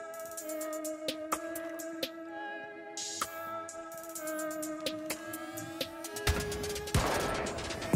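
Sharp bursts of gunfire in the Rainbow Six video game crack out in scattered single shots and quick clusters over a steady tonal in-game background, moderately loud with no talk.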